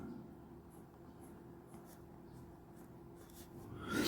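A PenBBS 267 fountain pen with a standard steel F nib traces figure eights on paper, giving a faint, close, continuous scratchy rustle under quiet room tone that swells briefly near the end.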